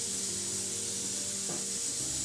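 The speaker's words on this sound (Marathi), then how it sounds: "याच कढईमध्ये आपण 2 चमचे तेल घालणार आहोत।" Two spoonfuls of oil go into a hot kadhai while a veg thali is cooked, giving a steady, loud hiss and faint sizzle that runs unbroken throughout, with a low hum underneath.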